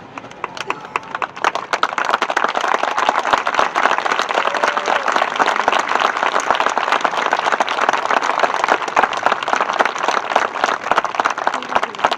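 A large high school graduation crowd applauds scholarship recipients, a broad, steady wash of clapping that swells after a second and holds loud throughout.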